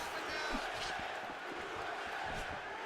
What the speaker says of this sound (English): the crowd is chanting USA in favor of Van Zandt